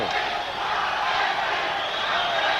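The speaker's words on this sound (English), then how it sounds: "You can hear the crowd largely Hispanic, of course." Large, largely Hispanic crowd at a boxing arena in Miami, a continuous distant roar and murmur filling the space without clear individual voices.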